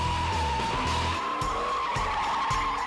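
A supercharged Trailblazer SS drifts through a course, its tires squealing in a sustained high whine over a loud, revving engine with rhythmic pulses throughout.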